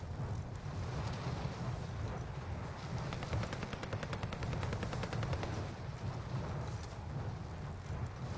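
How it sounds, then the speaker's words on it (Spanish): Gunfire from a battle royale video game during a tournament match, heard as a steady, dense burst of rapid shots spread over several seconds, fairly distant and muffled under a continuous noisy background. "También estaban disparando en el Search."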